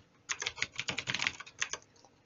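Rapid bursts of keystrokes on a computer keyboard, clattering in uneven clusters with short pauses, close and fairly loud, no voices.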